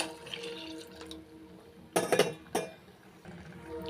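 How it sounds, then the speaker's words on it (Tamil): Water splashes into a metal cooking pot close by while it is rinsed and filled, with a few clanks of the vessel in a short burst amid quiet kitchen background. "இந்த பாத்திரத்தை கழுவி தண்ணி சேர்த்துக்கிறேன்"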